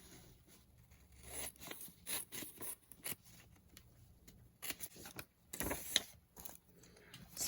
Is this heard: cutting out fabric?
yes